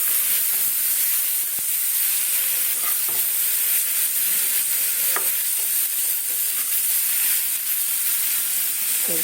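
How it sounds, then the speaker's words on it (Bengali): Mixed vegetables frying in a pan with a steady, loud hiss and sizzle, broken by a few soft clinks and scrapes as they are stirred. "সবজিগুলো একটু নাড়া নাড়ানাড়ি করে দিয়েছি"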